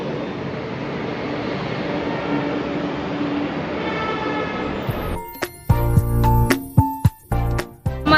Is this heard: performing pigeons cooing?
no